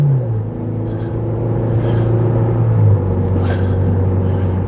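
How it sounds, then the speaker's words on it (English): A car engine on a cold day hums low as the car pulls out and rolls up to speed, with a steady rumble that rises slightly and fades into road noise, heard from inside the car with no talk. "You can hear the motor."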